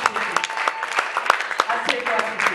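A church congregation applauds in acclaim of the Lord, with a run of irregular, sharp claps and cheering voices mixed among them.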